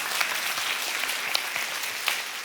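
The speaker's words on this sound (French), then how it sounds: "si t'applaudis pour de vrai, s'il te plaît." A church congregation applauds inside the sanctuary, a steady wash of many hands clapping with a few louder claps standing out.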